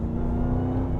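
Supercharged 6.2-litre Hemi V8 in a RAM 1500 TRX Final Edition pickup truck, a steady loud low engine drone with a whirring tone, close and continuous without speech.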